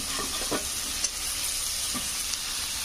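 A potato filling made with salt, turmeric, chilli powder and green chilli sizzles softly in a pan, with a few scraping stirs breaking through the steady low frying hiss.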